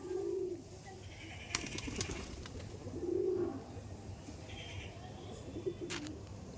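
Domestic pigeons kept at a house give a few soft, low coos at a moderate distance, spaced seconds apart over a quiet ambient background.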